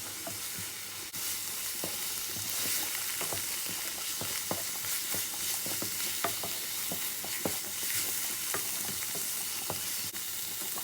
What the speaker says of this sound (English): Once you add that in, you want to cook that for a few more minutes.